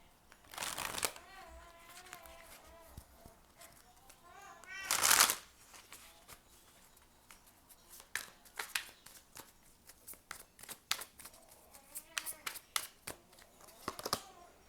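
Tarot cards being shuffled by hand before the last card is drawn, quick riffling bursts and papery flicks at varying pace, close and fairly quiet, with someone talking softly in between.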